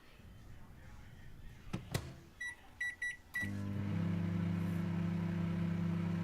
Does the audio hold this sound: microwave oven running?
yes